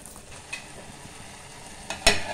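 Sponge gourd stir-fry being mixed in a pan gives a faint low sizzle, punctuated by a few spatula scrapes and clinks, the loudest near the end.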